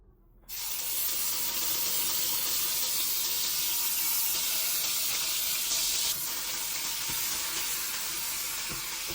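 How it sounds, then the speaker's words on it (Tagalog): Garlic hits hot oil and sautés for menudo, a sudden loud, continuous sizzle that starts abruptly and holds steady, close up, with faint stirring clicks underneath. "Gisahin natin yung bawang and then yung sibuyas."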